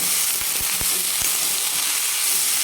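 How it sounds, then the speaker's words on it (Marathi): Wild leafy greens (ghol bhaji) stir-fried in a pan give a steady close sizzle and hiss, with a few soft knocks of stirring near the start. "मी परतून देऊ"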